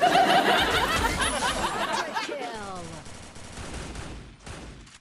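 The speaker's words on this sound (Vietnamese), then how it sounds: "tụi nó bắn nhau tùm lum túi bụi loạn xà ngầu" Bursts of rapid gunfire from a mobile shooter video game with shotguns and SMGs, loud and dense at first, then thinning out, while a voice laughs and talks over it.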